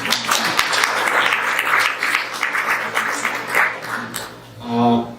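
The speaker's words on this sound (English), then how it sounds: "A round of applause for Cassandra, please" An audience at an anti-racism forum in Saint John applauds in a moderate indoor round of clapping that fades, then a voice begins speaking at the end.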